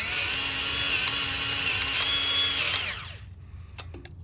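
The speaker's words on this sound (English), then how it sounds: "So now we're just going to give this about a few pumps here." A Milwaukee cordless grease gun motor whirs steadily and loudly for about three seconds, then cuts off, leaving a few faint clicks and handling taps close by.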